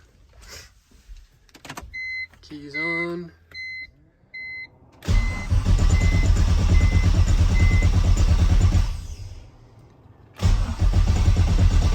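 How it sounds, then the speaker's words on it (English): A BMW E46 with an LS engine swap, started cold: a few beeps and a brief voice, then the engine cranks and catches into a loud, close, rumbling idle that drops away and returns. "So let's see if we can't get her to fire up here."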